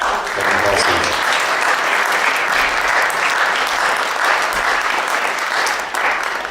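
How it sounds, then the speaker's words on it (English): Loud, dense audience applause at a concert, honoring two band members, a steady wash of many hands clapping throughout. "how about a big round of applause for Jossie and Halsey"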